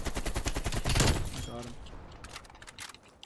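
AK-47 bursts crack through a Call of Duty: Cold War match, rapid close shots clustered in the first second and a half before thinning into scattered pops, with a player talking over them.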